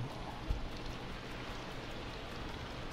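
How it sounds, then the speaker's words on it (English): Steady rain in the video game Little Big Planet 3, a dense even hiss that continues throughout with one soft thump near the start and no talking. "it's raining outside"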